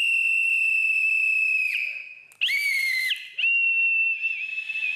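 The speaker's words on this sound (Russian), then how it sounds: "У каждого детектива есть свисток." A shrill police-style whistle is blown in several long sustained blasts, loud and close, each held steadily before a short gap, with a brief warbling dip between them.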